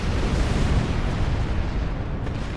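Heavy ship weapons fire in Star Trek Online, a continuous loud roar of blasts and rumbling impacts blending into one dense barrage, with no gaps and no talk.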